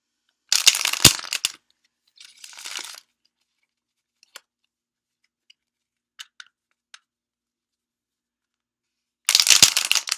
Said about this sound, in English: So let me shuffle the cards here